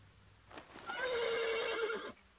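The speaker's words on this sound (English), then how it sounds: "The horse nearly woke the guard." Horse whinnying in the medieval video game Ken Follett's The Pillars of the Earth, a single drawn-out neigh rising and falling over about a second, loud and close against a quiet background with no talk.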